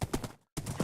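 Horse hooves clip-clop in Minecraft, a few quick rhythmic steps, a brief gap of silence, then more steps, loud and close.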